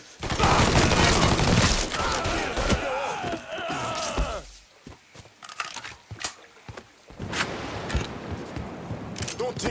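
Rapid gunfire and bursts of shots in a Mafia III: Definitive Edition firefight, loud and dense at first, then scattered shots and impacts, followed by another heavy volley.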